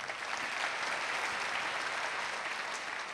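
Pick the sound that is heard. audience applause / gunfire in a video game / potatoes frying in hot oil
audience applause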